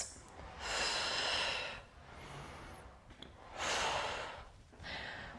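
Heavy, audible breaths during a reformer workout with dumbbells, with long forceful exhales and inhales in slow cycles, close and clear, with no talking.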